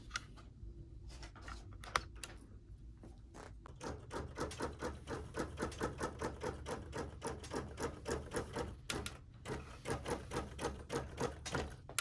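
A Q-matic computerized quilting machine runs with a rapid, steady mechanical clatter of the needle, starting after a brief pause and continuing evenly up close.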